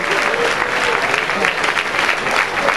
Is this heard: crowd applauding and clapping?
yes